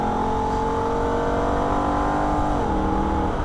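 A Holden VF Ute engine revving hard on the Nürburgring, a loud continuous whine with rising harmonics and a clear pitch drop at an upshift near the end.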